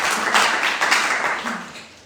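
At a poetry festival, an audience breaks into applause, a steady wash of many hands clapping at moderate loudness that tapers off toward the end.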